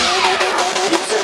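Drift car engine revving hard and screaming at high rpm during a Red Bull Car Park Drift competition in Katowice, a loud continuous wail with rising and falling pitch, close by and alone.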